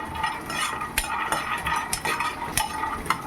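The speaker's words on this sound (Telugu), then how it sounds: "ఎండు కొబ్బరి ముక్కలు ఉన్నాయి కదండి వాటిని వేయాలి కొద్దిగా జీడిపప్పు దీన్ని డ్రై ఫ్రైయే చేసుకోవాలండి" Dry coconut pieces and cashews roast in a dry pan for Hyderabadi bagara baingan, rattling and scraping as they are stirred, with light metallic clinks over a steady close sizzle.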